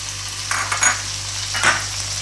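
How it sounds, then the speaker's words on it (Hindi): Mutton stir-fried with tomatoes in a pot for Shimla gosht, giving a steady low sizzle with two brief louder scrapes of a spoon stirring, close and with no voices, over a faint constant hum. "अब हम इसकी अच्छे से भुनाई करेंगे"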